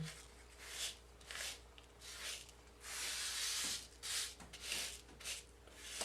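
Rhinestones are rubbed onto a baseball cap in repeated soft, hissing strokes, each lasting about half a second to a second, close and quiet against a low steady hum.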